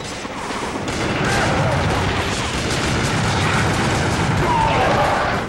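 Dense, loud gunfire and crashing explosions from the video game Gungrave Overdose, a continuous barrage of shots and impacts lasting several seconds.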